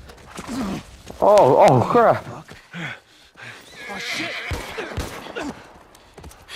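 In The Last of Us Part 1, a horse whinnies loudly and close, then hooves clop and scuffle amid a struggle, with voices and exclaimed speech over the scene.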